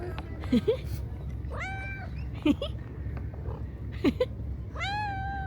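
A small, vocal street cat in Istanbul meows repeatedly, several rising and falling calls up close, with people talking softly in the background.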